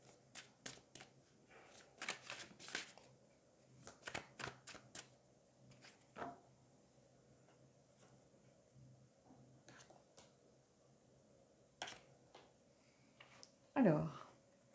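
Tarot and oracle cards are shuffled in quick, soft riffling bursts near the start, then fall quiet except for occasional flicks, with a faint hum behind and a brief voice toward the end.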